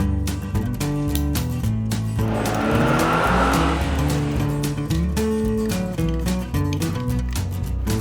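A red toy racing car with a screeching tire squeal and revving car sounds, set against a bright musical backing that plays continuously throughout.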